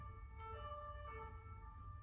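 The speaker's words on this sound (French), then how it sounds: "On nous confirme les choses par la sirène." A distant emergency vehicle siren wails faintly in steady tones over a low rumble of background noise, with no voices present.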